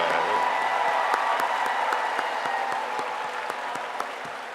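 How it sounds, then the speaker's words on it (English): Steady applause from a large audience at a Tuskegee University spring commencement ceremony, a dense even patter of many hands clapping throughout, gradually easing slightly toward the end. "A round of applause for our great-grandmother."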